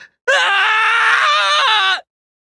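Man's pitiful shriek in an audio drama: a single loud, sustained, wavering scream lasting nearly two seconds, starting abruptly and cutting off into silence, heard alone.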